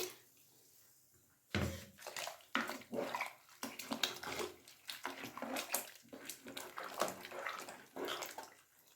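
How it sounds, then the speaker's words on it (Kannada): After a quiet start, water pours and splashes into a mixer jar in uneven gushes, with light knocks, close by. "ಈಗ ಮಿಕ್ಸಿ ಜಾರ್ನಲ್ಲಿ ನೀರು ಹಾಕಿ ಹಾಕ್ಕೊತಿದ್ದೀನಿ."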